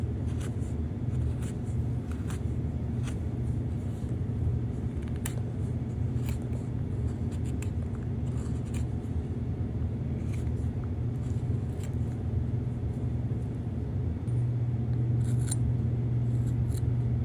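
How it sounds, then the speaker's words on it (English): A wide U-shaped chisel cuts and scrapes through wood while shaping the ears of a carved figure, giving steady close-up scratchy strokes over a low constant hum, with no talking. "Now we're going to be using a U chisel to shape the ears."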